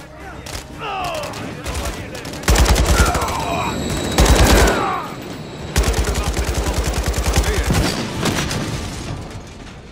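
Gunfire in Call of Duty: Modern Warfare 3: loud, dense automatic bursts and rapid volleys with heavy booming hits, running almost continuously over a noisy game battle, with a voice speaking briefly early on.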